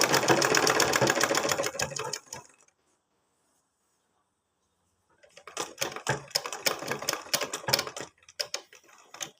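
A sewing machine stitches a V-collar kurti in rapid mechanical bursts: a loud run, a pause of about three seconds of silence, then another run of stitching with brief stops, close up.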